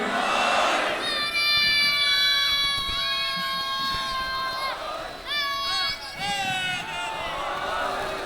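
A large crowd at a Muharram majlis in an imambargah chants religious slogans in loud unison bursts, sustained shouted tones rising and falling together, briefly dipping before a second surge of voices.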